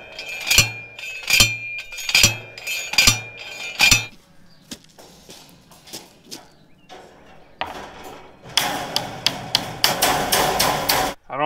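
A metal T-post is driven into the ground with about six sharp, ringing hammer blows in steady rhythm, then scattered clanks and, near the end, a rapid run of harsher metallic strikes, loud and close with no talking.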